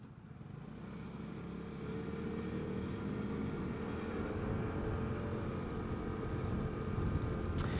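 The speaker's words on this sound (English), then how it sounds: "That's a loud truck behind me." A low engine rumble builds steadily as a heavy truck passes close behind a Vespa GTS 300 Super Sport scooter, a loud continuous drone with no speech.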